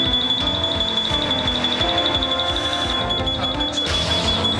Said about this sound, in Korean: 급박하게 울리는 연기 감지기.